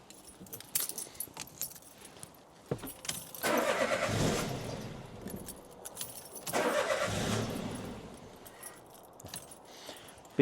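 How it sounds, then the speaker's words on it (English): Car engine cranking and starting on the key after a battery replacement, with jangling keys first, then two loud cranking bursts that catch and run, close by with no talk. "let's turn the key and fire it up"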